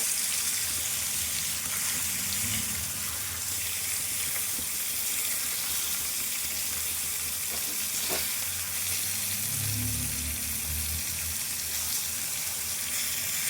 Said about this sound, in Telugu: చికెను మంచిగా వేగనియాలి